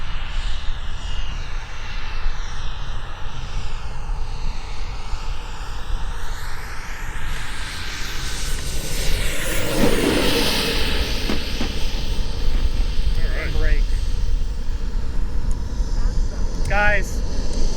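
A Sebart turbine-powered RC model jet comes in to land with flaps down and a little power held, its engine a loud, continuous roaring whine that fills the whole stretch.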